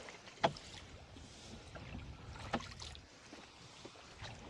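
Oars work a rowboat on a lake in a fresh breeze, with two soft knocking strokes a couple of seconds apart over faint wind and water noise, quiet and close.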